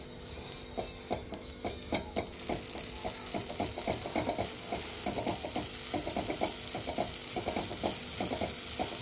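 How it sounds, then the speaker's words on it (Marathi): Amaranth (rajgira) seeds roasting in a pan, rapid irregular pops and crackles over a steady sizzling hiss, close and continuous. "मी तुम्हाला परत एक वेळेस राजगिरा भाजून दाखवते"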